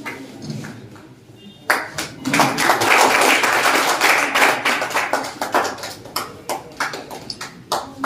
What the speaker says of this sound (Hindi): तालियों से इनका इस्तकबाल करें।